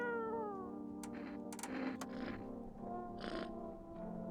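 Cat meowing in the video game No, I'm Not a Human, a drawn-out meow at the start followed by several short mews and chirps against a soft background hum, clear and close.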